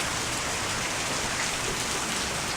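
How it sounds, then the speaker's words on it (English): Steady rain falls outside in a continuous, even hiss of drops striking surfaces, close and fairly loud throughout, with no voices. "when it's raining"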